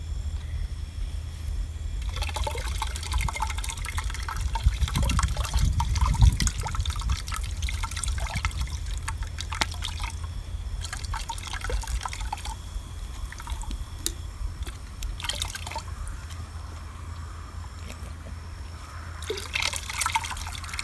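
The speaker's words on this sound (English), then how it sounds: "so I'm going to add the beer" Beer poured into a bucket of roughly four gallons of compost mix, a continuous liquid trickle and dribble with occasional splashy drips, close by and without speech.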